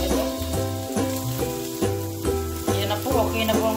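Onion sizzling and frying as it browns in a pan with oil, a steady crackling hiss with rhythmic stirring scrapes throughout, loud and close, with no talking.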